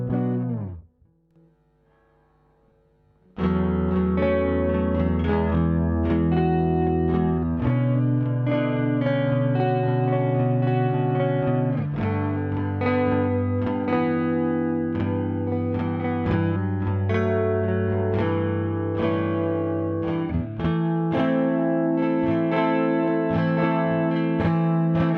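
An electric guitar rings out with a shimmering, thickened chorus tone, chords and notes played continuously and loudly after a brief quiet start, with no voices.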